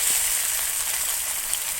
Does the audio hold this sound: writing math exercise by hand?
no